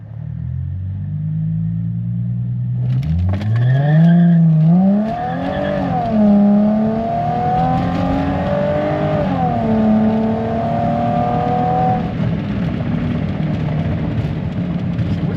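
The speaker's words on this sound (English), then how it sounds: "so you can hear this V6 blower on the supercharger" A Chrysler Crossfire SRT-6 with a supercharged V6 pulls hard from a standstill on a 0 to 60 run, loud engine rising through several gears with brief dips at each shift, supercharger whine layered over the rumble.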